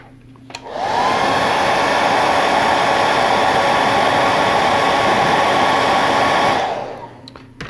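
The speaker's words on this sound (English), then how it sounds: "So let's hit that with a hair dryer." A hair dryer blows steadily on a painted wood-grain handle, switching on near the start and running loud and constant for about six seconds before cutting off, with no talk.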